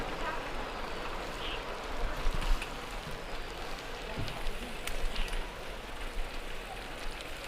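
Heavy rain pours steadily during a Guangzhou downpour, a dense, even hiss with occasional louder drips and spatters near the microphone, continuing without pause and with no voices heard.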